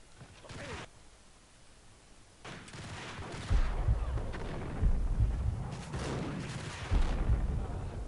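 Gunfire in Max Payne, several loud booming shots and bursts with rumbling tails, spaced irregularly after a quieter opening stretch.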